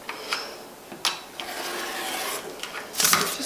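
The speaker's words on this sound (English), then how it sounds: "I'm going to trim off another little less than an inch or so here." Hydro sublimation transfer paper being trimmed, with short rasping cuts and papery rubbing up close, several separate strokes and handling noises.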